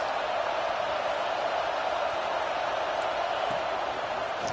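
Crowd roar from a college football video game, Ohio State Buckeyes home crowd on third down against Auburn, a steady loud broadband wash of cheering holding at one level with no talk over it.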